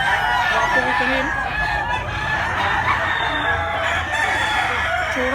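Young yellow-legged gamecock stag crows repeatedly outdoors, loud and near, over a steady background of farm noise and other fowl.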